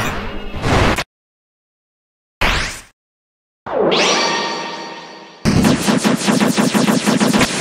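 A Deltarune fangame unleashes a flamethrower attack: a sharp burst, then silence, a short blast, a long roaring whoosh that fades, and finally a loud, rapid stuttering barrage of fire.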